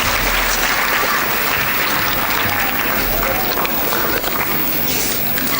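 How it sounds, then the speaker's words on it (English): Applause from a school annual day audience fills the hall, dense and continuous throughout, with crowd murmur mixed in. "Please give round of applause for Mr. Shekhar Raghavan, the Rain Man."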